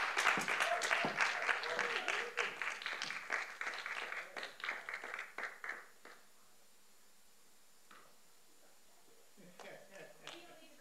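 An audience at a college Tech Talks event applauds after a speaker's talk, with loud, dense clapping that thins and fades over about six seconds into quiet, followed by a few scattered claps and a voice.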